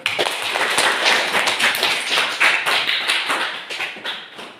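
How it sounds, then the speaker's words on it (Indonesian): A class of students clapping hands together in a classroom, a close, lively burst of many overlapping claps with slight rhythmic pulses, sustained for several seconds. "Kita tepuk tangan"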